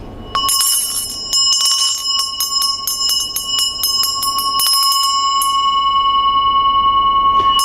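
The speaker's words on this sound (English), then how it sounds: "when you ring the bell, it's not here, heart level" Traditional ritual hand bell rung repeatedly in clear, bright strikes, each leaving a long shimmering ring that overlaps the next, close and loud, then settling into one sustained tone.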